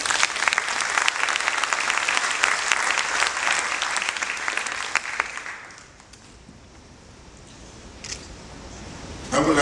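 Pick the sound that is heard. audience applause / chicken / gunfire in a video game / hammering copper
audience applause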